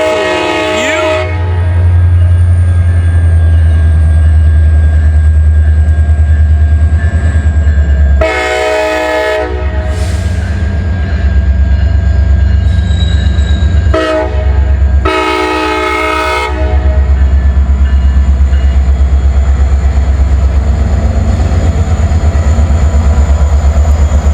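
A CSX freight train hauling huge stones rumbles past close by with a deep, steady roar, its horn sounding loud long blasts several times over the continuous rolling of the railcars.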